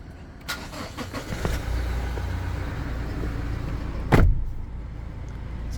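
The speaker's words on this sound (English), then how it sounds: "Foot must be on the brake to be able to start it up." A 2018 Toyota Land Cruiser Prado VX engine starts from a push button, giving a short loud cranking burst that settles into a steady idle, heard close up from inside the car amid faint clicks and cabin sounds.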